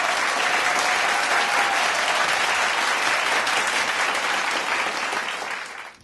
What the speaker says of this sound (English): please give a warm round of applause and a great, great welcome to poet Jeff Nelson